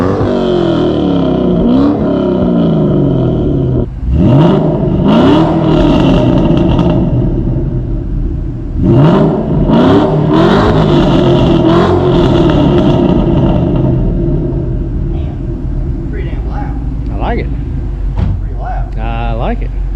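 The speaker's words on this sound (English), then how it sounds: "We're going to give it a little rev." A Ford GT500 V8 with longtube headers revs several times, rising and falling in sharp bursts between idling stretches, loud and close, with a clunk or door-like thud partway through and quieter rumbling toward the end.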